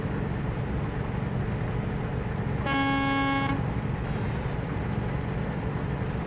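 A truck horn in a driving video game gives a single loud, sustained blast of about a second over a steady low engine drone.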